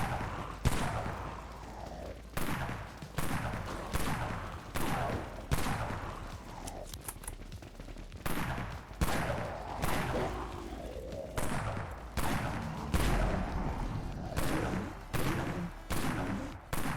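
Repeated gunfire from the Pierce Shot weapon in the Dead Frontier video game, sharp evenly spaced shots about every 0.8 seconds over a steady in-game background, loud and close.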